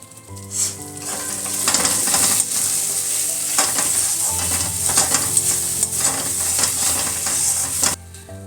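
Ground cumin, coriander, Kashmiri red chili and turmeric fry in hot oil, a close, steady sizzle broken by repeated scraping strokes of a spoon stirring the pan.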